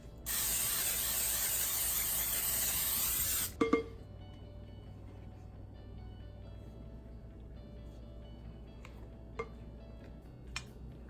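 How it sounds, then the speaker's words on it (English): A PAM cooking spray can hisses steadily for about three seconds as a baking pan is coated for keto brownies, then a couple of light clicks and clinks follow in a quiet kitchen. "so I just use my PAM and it works just fine"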